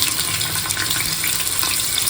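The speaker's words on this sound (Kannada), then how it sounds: "ಎಣ್ಣೆಯಲ್ಲಿ ಫ್ರೈ ಮಾಡೋಣ" Loud, constant sizzling and crackling of chicken frying in hot oil, with no one speaking.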